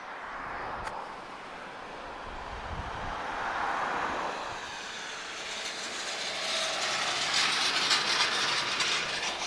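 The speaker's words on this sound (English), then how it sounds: "this is Ryanair. She's off to London Stansted, 737-800." Ryanair Boeing 737-800 airliner departing Lisbon airport for London Stansted, a distant broad jet roar that swells and builds steadily over several seconds, heard outdoors with no talk.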